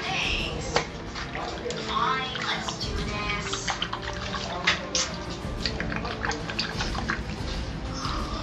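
Tap water runs and splashes as lady fish are washed by hand, a continuous close watery rush with small splashes and handling noises throughout.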